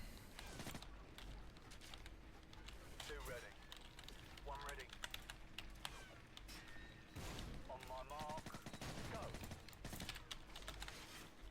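Gunfire in the video game Call of Duty 4: Modern Warfare, bursts of rapid crackling shots scattered through the scene alongside clicky keyboard-like tapping, with someone talking in between.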